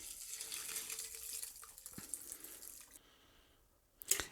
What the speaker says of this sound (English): So I'm just going to strain this over fresh ice.